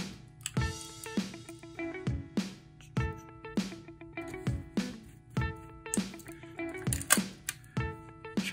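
Screws being driven in while reassembling a disassembled F3 camera: a close series of sharp clicks and ratcheting ticks in an uneven rhythm, about a dozen distinct taps, with no talking.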